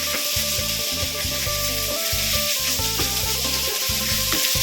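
Pork belly stir-fried in a pan with red curry paste and morning glory, loud constant sizzle close up, with scraping stirring strokes repeating across the whole stretch, no talk.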